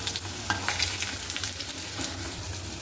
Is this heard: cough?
no